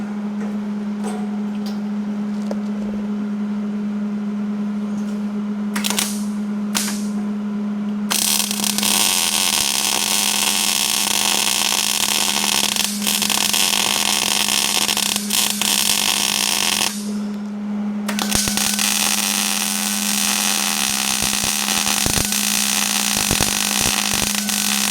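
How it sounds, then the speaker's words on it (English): Welding on the back of a 1932 Model A chassis jig in a shop, a loud continuous crackling buzz in two long bursts over a constant low hum, close and without talk. "let's get the back welded here"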